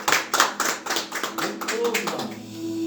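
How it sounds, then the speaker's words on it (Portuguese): A church congregation claps loudly during a service, with rapid hand claps at the start that fade into singing or speech. "Aplauda bem forte o nome do Senhor."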